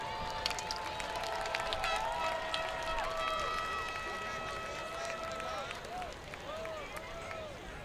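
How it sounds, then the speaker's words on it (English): A crowd at a Lane College event honoring the alumni association and the class of 1969 claps and cheers steadily, with whoops and shouting voices rising over a continuous wash of applause. "please give a big round of applause to the Lane College National Alumni"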